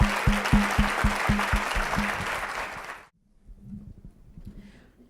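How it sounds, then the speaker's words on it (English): Conference keynote audience applauding in a broad wash of clapping that rides over a low rhythmic beat, then cuts off abruptly, leaving quiet room tone and faint murmuring. "And a warm round of applause to my incredible mother."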